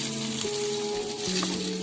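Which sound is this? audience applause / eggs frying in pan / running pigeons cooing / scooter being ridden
eggs frying in pan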